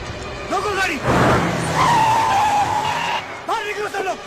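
Car tires screech and skid as the vehicle brakes hard in a tense action movie scene, a long rising squeal in the middle with shouting voices before and after.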